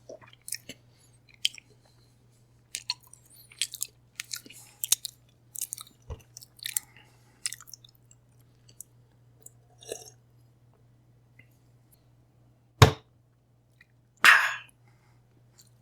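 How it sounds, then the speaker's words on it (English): Quiet, intermittent wet chewing and crunching noises heard through a telephone receiver come in small bursts over a faint steady hum, followed by two louder sharp clunks as the receiver is slammed down. "There's a sound from the receiver, like chewing."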